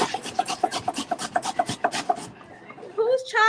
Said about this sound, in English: Who's chopping like a pro over there?